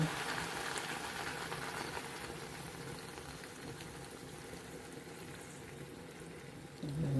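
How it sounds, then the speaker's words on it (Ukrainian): Water pouring into a cooking pot, a soft steady liquid rush with a gentle bubbling wash throughout, fairly quiet and close, with a brief thump near the end. "Тепер заливаю водичкою"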